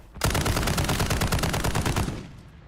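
A sudden, loud automatic burst in Call of Duty Warzone: an evenly spaced rapid stream of shots for about two seconds, then it cuts off and fades.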